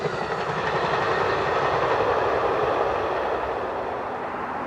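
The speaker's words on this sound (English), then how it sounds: "This first train we see here was a combined Train 7 and 8, making for an unusually long Empire Builder." An unusually long Amtrak Empire Builder, combined Trains 7 and 8, rolls past in the Minnesota area, a loud continuous rumble of railcars with faint clickety-clack throughout.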